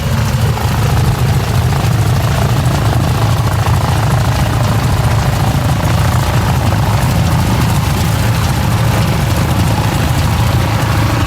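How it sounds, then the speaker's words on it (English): A Stearman biplane passes close by with a loud, steady radial-engine and propeller roar. The sound stays dense and unbroken throughout, filling the whole scene and drowning out everything else. "We've paused our chat for a second because there's a steerman going past, and you really can't talk over it."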